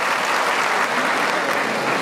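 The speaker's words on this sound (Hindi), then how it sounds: "जोरदार ताली बजा के इनका स्वागत करें" Crowd applause at an Indian political rally, a dense unbroken patter of many hands clapping at once, loud and even for a couple of seconds with no talk over it.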